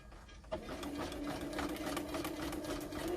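A sewing machine runs a zigzag stitch over lace, starting after a brief quiet moment and then whirring steadily up close with a fast, regular pulsing rhythm to the end.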